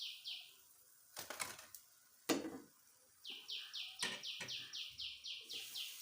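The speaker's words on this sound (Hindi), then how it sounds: "ये चिड़ियाँ चचा रही हैं, आवाज़ आ रही है आपको?" Small birds chirp outside a house in a village, with quick repeated tweets in regular bursts and a few louder sharp calls and rustles mixed in, heard fairly close against a quiet background.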